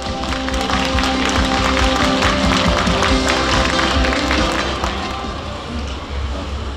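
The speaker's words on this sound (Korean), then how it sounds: "여러분, 정영철 영동군수님을 힘찬 박수로 맞이해 주시기 바랍니다" A crowd at the opening ceremony of the 2024 Yeongdong dried persimmon festival claps to welcome the county governor, a sustained wash of applause that slowly fades, with faint talk underneath.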